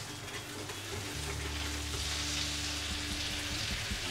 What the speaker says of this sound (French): Vous voyez, le beurre est moussant.